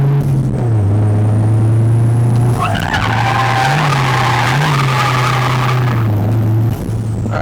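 A big-turbo Hyundai Genesis Coupe with an angle kit drifts through a corner, its tires shrieking in a loud, sustained squeal over a roaring engine that shifts pitch as it goes.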